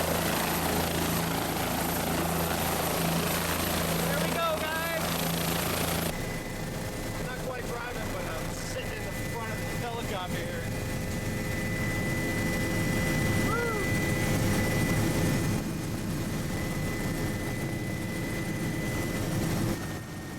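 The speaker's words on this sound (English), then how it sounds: "For now, we got the helicopter tour" Helicopter flying over Niagara Falls, a steady loud rotor and engine drone that runs throughout, with a voice talking over it.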